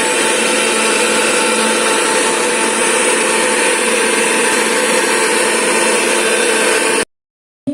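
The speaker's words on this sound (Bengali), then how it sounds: "আদা পেঁয়াজ রসুন আমি একসাথেই মিক্সচারে পেস্ট করে নেব।" A mixer grinder whirs steadily and loudly, blending ginger, onion and garlic into a paste, with a constant high-pitched motor drone that runs for about seven seconds before cutting off abruptly.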